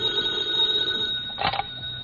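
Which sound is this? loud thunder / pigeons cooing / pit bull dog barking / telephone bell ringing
telephone bell ringing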